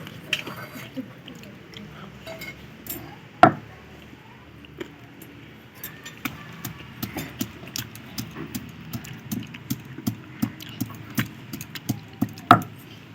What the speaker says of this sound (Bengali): এইগুলো এখন আমি শিলনোড়ায় ভালো করে বেটে নেব